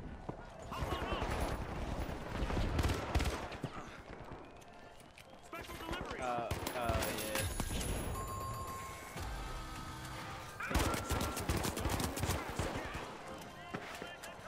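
Busy gunfire from a turret in The Finals crackles almost continuously amid other shooting and game noise, while a person talks over it.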